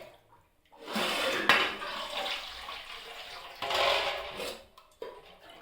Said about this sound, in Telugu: మామిడికాయలు కడుగుతావు